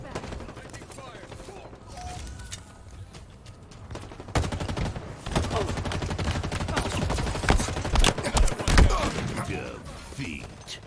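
Bursts of automatic gunfire and single shots crackle through a video game firefight, building from scattered pops to dense, loud volleys with heavy thuds, while a game voice calls out alerts.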